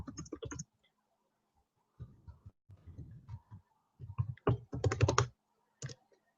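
Typing on a computer keyboard comes in short bursts of quick, close key clicks separated by pauses, the final flurry the densest and loudest.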